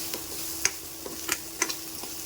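Onions fry in a pan, making a soft steady sizzle broken by a few sharp ticks from a spatula or spoon striking the pan, close and with no talking.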